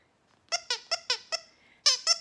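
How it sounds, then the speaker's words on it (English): A tube-shaped dog toy squeaker squeaks seven times in quick, sharp chirps, a rhythmic run of five followed by a brief pause and two more, close and clear. "instead we'll choose a tube-shaped squeaker"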